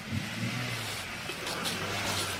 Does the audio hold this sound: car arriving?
yes